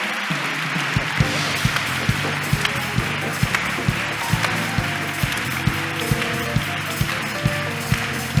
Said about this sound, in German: Dann ist hier euer Applaus.